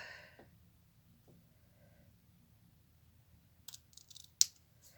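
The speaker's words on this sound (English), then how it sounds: "cut that off where I want that to be. If I just cut it there like that." Scissors cut ribbon for a snowflake-themed wedding bouquet, giving a few short, crisp snips close by near the end of an otherwise quiet stretch.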